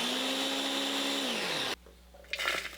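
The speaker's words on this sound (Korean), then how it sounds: "불린 쌀에 굵은 소금 깎아서 한 스푼 넣고 갈아서 쌀가루를 만들어요." An electric blender grinding soaked rice with coarse salt into flour, a loud whining motor that drops in pitch before cutting off abruptly, followed by a few light knocks.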